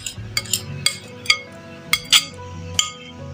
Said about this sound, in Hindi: अब जो दही और घी जो हमने मिक्स कर रखा है उसको ऐड करते हैं खुश्क वाले मिक्सचर में और इसे मिक्स कर देते हैं